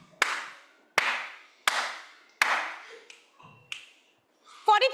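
Sharp hand claps and finger snaps used to count numbers in a game at a town hall: four loud, evenly spaced claps, then two softer snaps, followed by a brief voice at the end.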